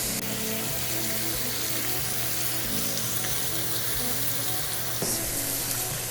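Thick bone-in pork chops sizzle loudly and steadily on a grill, a dense continuous crackle of hot fat and juices close up, with no talk over it.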